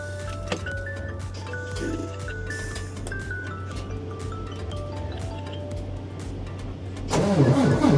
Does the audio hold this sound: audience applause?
no